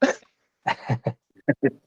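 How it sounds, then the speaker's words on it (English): A few short, dry coughs in a quiet room, one near the start and a cluster of quick ones toward the end. "Still coughing, but the coughs are less"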